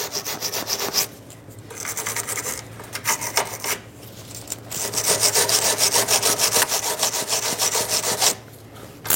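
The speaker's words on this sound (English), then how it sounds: "I'm going to take a wire brush, clean up the threads now that they've been worked through a little bit." A wire brush scrubbing threaded bolt studs on a car's suspension during a repair, rough back-and-forth rasping strokes in bursts separated by short pauses, close and fairly loud.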